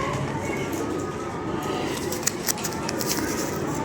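Pigeons coo in a steady low murmur close by, with scattered soft calls over a noisy, crowded background.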